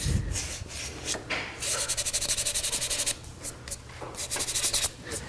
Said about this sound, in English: So I'll do this sanding all with the grain.